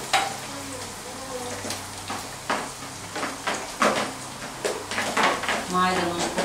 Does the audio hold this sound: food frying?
yes